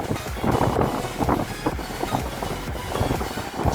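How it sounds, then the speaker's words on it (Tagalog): Very strong headwind roars across the microphone during a bike ride on a Bulacan loop, a loud, continuous gusting rumble that surges and dips throughout. "Napakalakas ng headwind ngayon."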